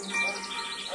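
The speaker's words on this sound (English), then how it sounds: "It's a bird." A bird chirps from a television nature programme about animals, thin high tweets that sit under a narrator's continuous speech through the short moment.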